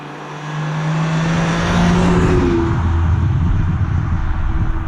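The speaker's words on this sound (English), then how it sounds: "the car's just idling nicely, downshifting fine" A 2003 Ferrari 575M grand tourer engine idles in traffic with a downshift, a steady close low rumble that swells briefly as revs rise and settle.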